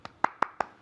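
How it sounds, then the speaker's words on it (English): Four separate hand claps in a slow, even rhythm, close and clear, with no voices. "Shall I clap for you?"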